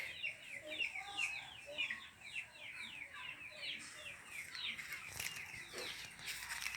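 Chickens cluck steadily in a busy flock being released and fed, overlapping calls close by, with a few rustles and wing flaps in the background.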